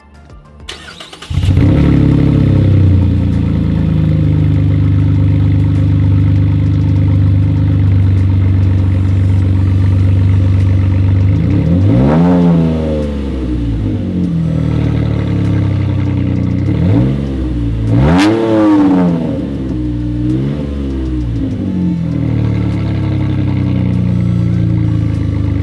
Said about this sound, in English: that straight pipe sounds really good